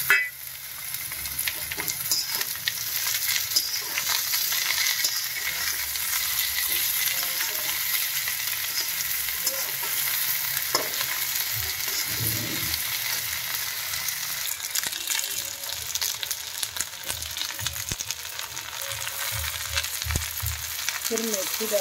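Steady, crackling sizzle of potatoes frying in hot oil, with occasional stirring scrapes, continuous and close throughout without any talking.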